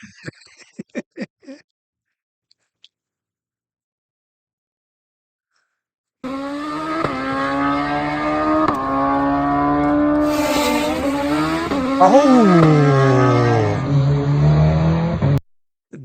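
A motorcycle racing past on a track, its engine climbing in a loud sustained roar for several seconds with a rising and falling pitch sweep as it goes by, after a few brief knocks and near silence.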